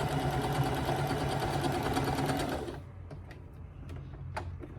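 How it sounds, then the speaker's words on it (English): A sewing machine stitches diagonally across a quilt square, running in a steady rapid whir for under three seconds before stopping, followed by a few small clicks and handling sounds. "I'm going to sew diagonally down the other side, making sure it stays lined up."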